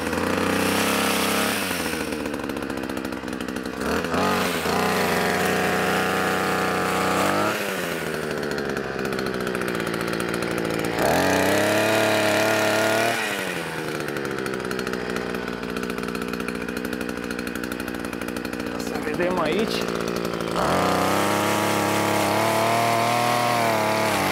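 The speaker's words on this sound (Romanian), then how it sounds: "o să las așa cu prelungitor, o să tai ceva crengi mai la înălțime din câțiva pruni" Ruris DAC335 52cc multifunction brush cutter fitted with a pole saw extension, cutting branches from dry plum trees: a loud, continuous two-stroke engine drone that rises and falls in pitch as the throttle and cut load change, heard close with no talk.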